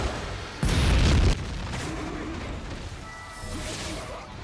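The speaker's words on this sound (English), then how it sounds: "And here is his soul bomb." Ulquiorra's soul bomb special attack in Bleach Brave Souls on PS5, a loud booming blast lasting under a second that rises sharply out of a busy game soundscape, followed by lingering whooshing effects and low rumble.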